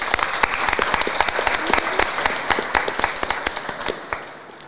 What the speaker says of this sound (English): I'm going to give these girls a big round of applause